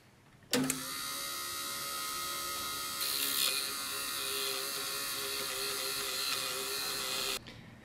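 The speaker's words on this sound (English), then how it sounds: "Here I am using the tyre raiser tyre lathe to turn these wheels down and make inserts." Small tyre lathe turning down slot car wheels to cut inserts, a steady high whirring motor hum that starts abruptly, holds evenly for about seven seconds with a slight bump midway, then cuts off.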